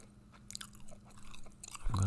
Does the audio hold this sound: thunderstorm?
no